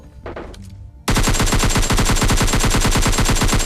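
Sustained automatic gunfire from PUBG Mobile Lite, a fast, evenly spaced burst of loud shots running for nearly three seconds after a brief quieter lead-in.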